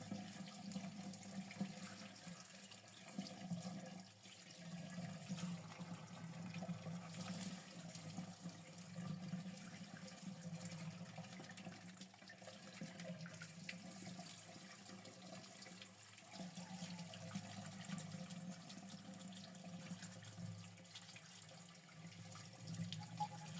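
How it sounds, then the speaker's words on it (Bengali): A steady stream of tap water runs continuously while cut young jackfruit is rinsed under it, close and moderately quiet with no talking. "এভাবে জলের ধারায় ধুয়ে নিলে কষগুলো খুব সুন্দর মতো চলে যায়"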